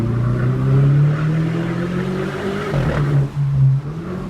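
A Seat Ibiza Cupra 1.4 with 180 hp, its engine note echoing off nearby rocks: a loud, droning hum that rises, dips briefly and picks up again, with no talk.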